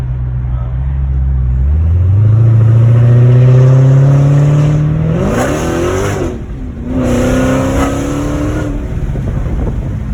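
A 2016 Dodge Challenger Hellcat with a mid muffler delete exhaust revving from inside the cabin, a deep rising engine drone climbing in pitch, then a brief lift and another pull, loud with a voice briefly audible.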